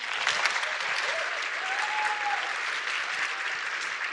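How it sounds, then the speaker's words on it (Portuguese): An audience at a front-end developer conference in São Paulo applauds steadily, a dense wash of clapping throughout with faint voices mixed in. "Uma salva de palmas."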